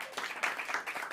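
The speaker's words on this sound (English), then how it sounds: "Let's have another round of applause for Suzanne," Audience applause at a poetry reading, a steady patter of many hands clapping for the full stretch at moderate level, with no voices over it.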